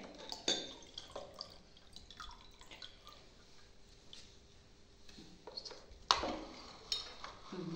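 Milk and coloured water are poured into containers during a classroom activity, heard as faint trickles and drips with light clinks of glass and dishware, soft and close with brief louder splashes.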